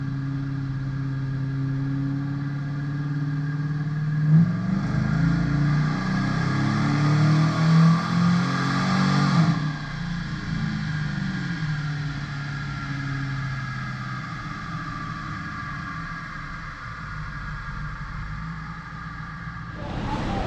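A Chevrolet Silverado truck with a vortecMAX engine and a newly installed cam is held at a sustained, loud engine drone on a dyno pull. The engine's pitch climbs slowly, with a swell in the middle, and there is no talking.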